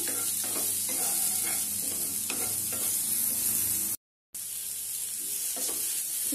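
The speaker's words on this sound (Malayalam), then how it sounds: "എടുത്തു വെച്ചിരിക്കുന്ന സവാള അരിഞ്ഞത് ഇതിനകത്തോട്ട് ഇട്ട് കൊടുക്കാം അതും കൂടെ ഒരുവിധം നന്നായിട്ട് വഴറ്റിയെടുക്കണം" Chopped onions sauté in a pan for a paneer masala, giving an even sizzle broken by a few scraping stirs of a spoon. The sound is close, with a short silent gap near the end and no talking.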